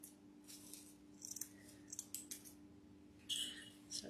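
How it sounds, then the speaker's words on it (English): Scissors trimming ribbon for a handmade wreath, with a few close, crisp snips and a light metallic rattle over a steady low background hum. "I'm going to go ahead and trim this one up"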